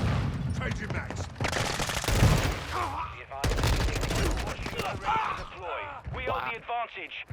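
Rapid gunfire bursts in a close-range Modern Warfare gunfight with an M4, sharp repeated shots clustered together, loud and near, heavily mixed under ongoing talk from a player.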